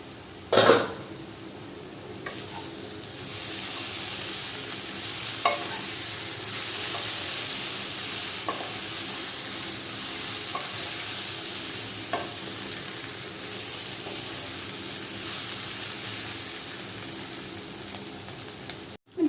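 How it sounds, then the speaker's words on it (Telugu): Diced potatoes for aloo fry sizzle steadily in hot oil, a constant bright hiss broken by occasional scrapes and clinks of a spoon stirring the pan, with no talking. "జస్ట్ ఒక 2 minutes ఫ్రై చేద్దామండి"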